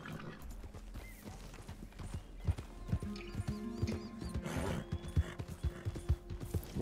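Horse hooves clip-clopping steadily as the rider travels in Red Dead Redemption 2, with an occasional neigh, tack jingles and outdoor ambience behind the hoofbeats.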